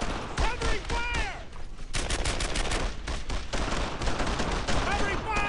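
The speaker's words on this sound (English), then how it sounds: "Keep shooting! I'm taking some fire here!" Dense, sustained gunfire in the World War II shooter Brothers In Arms: Earned In Blood: rattling automatic bursts and sharp single shots overlap nonstop, loud and close, with shouting voices mixed into the battle.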